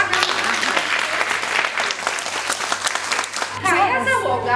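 Audience applause at a children's pageant gala final, a dense, sustained crowd clap filling the hall, with an announcer speaking over it and continuing afterward.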